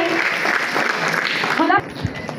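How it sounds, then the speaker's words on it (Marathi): An audience claps at a school retirement ceremony honouring a vice-principal, a dense burst of applause from a gathered crowd, with a voice speaking over it near the end. "सर्वांनी टाळ्या वाजवायच्या"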